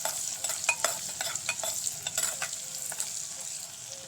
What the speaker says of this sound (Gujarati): મરચાં, લસણ ઝીણું ઝીણું કટિંગ કરી લીધું છે તે પણ ઉમેરી દઈશું। સરસ રીતે સાંતળી લઈશું।